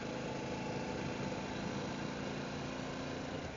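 A Harley-Davidson Pan America motorcycle engine idles steadily, a low, even rumbling hum with a light mechanical buzz, moderately quiet and unchanging over a few seconds.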